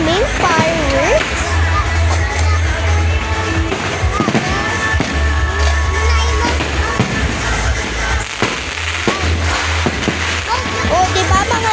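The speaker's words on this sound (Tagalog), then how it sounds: "Pakinggan nyo nga po, super daming fireworks." Many fireworks going off in rapid succession at a town plaza, dense crackling bangs and pops over a low rumble, with a person talking throughout.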